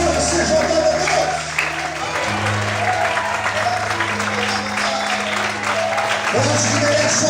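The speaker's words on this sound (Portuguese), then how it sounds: "Hoje que merece um aplauso mais forte" Applause from a church congregation fills the space steadily, with sustained organ or keyboard tones underneath and voices mixing in.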